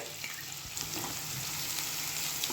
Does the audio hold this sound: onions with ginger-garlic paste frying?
yes